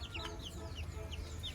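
Young chickens on a small rooftop farm of native hens chirp and cluck in quick, overlapping peeps over a constant low background hum, fairly faint and continuous.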